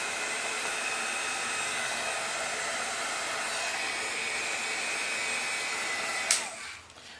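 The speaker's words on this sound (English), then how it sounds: "Remember to keep the heat gun moving so you don't burn the wood" Heat gun blowing on wood while drying ink, a steady, close, hissing airflow that runs continuously and then suddenly clicks off and winds down near the end.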